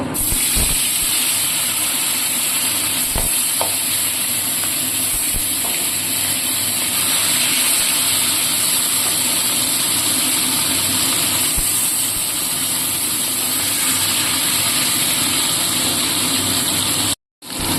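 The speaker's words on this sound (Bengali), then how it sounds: "এবারে আমি পরের মাছগুলো ভেজে নেব।" A fresh batch of fish fries in hot oil, giving a long, steady spitting hiss with occasional sharp pops and clicks; near the end it cuts out abruptly.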